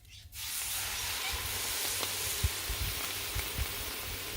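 Corn on the cob steams on a hot griddle with a sudden loud, broad hiss that holds steady, dotted with small pops and crackles of sizzling.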